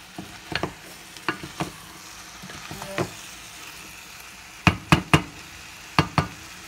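Food stirred in a cooking pot, a series of sharp spoon knocks and scrapes against the pot, some spaced singly and some in quick pairs, over a faint low background with no talking.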